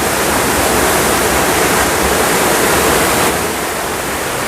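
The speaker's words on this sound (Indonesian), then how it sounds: "Saat ini saya sedang berada di air terjun yang ketiga." Steady, loud roar of a waterfall at Curug Paniis Sumur in Pandeglang, a dense continuous rush of falling water filling the whole clip with no voices.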